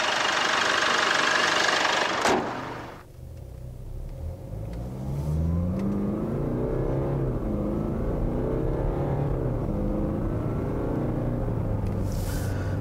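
A 2018 Jaguar F-Pace 2.0 diesel SUV with a ZF 8-speed automatic pulls away after a loud whooshing burst, its engine note climbing through repeated gear-by-gear rises in pitch, steady and moderately loud from inside the cabin.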